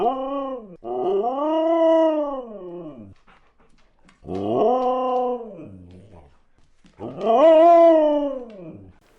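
A husky vocalizes in three long, drawn-out bursts of howling, whining "talk", each one rising and falling in pitch, loud and close with short pauses in between.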